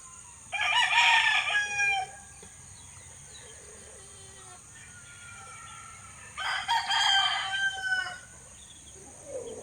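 A rooster crows loudly twice, several seconds apart, with softer hen clucks in between, close by, in a backyard chicken flock.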